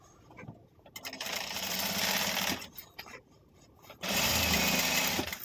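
A sewing machine stitches cloth for a festival return gift in loud, whirring bursts, pausing briefly in between before running again.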